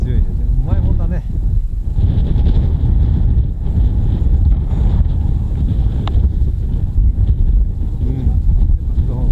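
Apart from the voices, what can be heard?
very strong wind blowing while sailing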